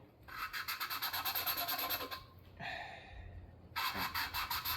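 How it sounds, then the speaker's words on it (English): Valve lapping compound being worked into engine valves on a service truck engine rebuild, a close gritty back-and-forth rasp in quick rhythmic strokes, pausing briefly before resuming. "This is the final stage of what you're supposed to do when you work the valves, is lapping them in."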